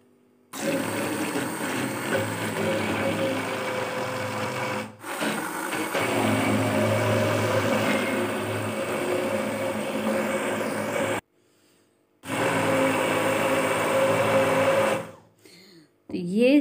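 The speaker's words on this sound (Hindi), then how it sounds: "और अब इसे करेंगे अच्छे से ग्राइंड" An electric grinder whirs steadily as it blends spicy red sauce with oil and oregano, running in loud, close bursts with brief pauses and a final short pulse.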